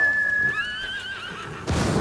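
A horse whinnies in Ghost of Tsushima, one long, clear neigh that wavers and trails off before a burst of rustling movement takes over.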